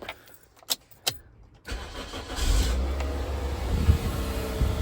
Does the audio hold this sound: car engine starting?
yes